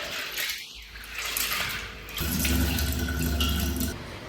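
Water runs from a tap in a kitchen sink while chana dal is washed, starting softly and then becoming louder and steadier as the flow hits the lentils, with a light clink of a pot early on.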